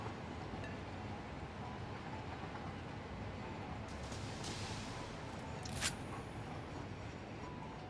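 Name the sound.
train passing by in the video game Satisfactory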